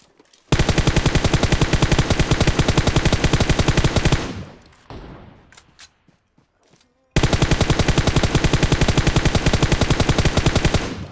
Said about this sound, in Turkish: Herkes bana sıkıyor.